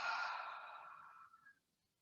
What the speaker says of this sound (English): Maybe take a releasing breath and exhale through the mouth.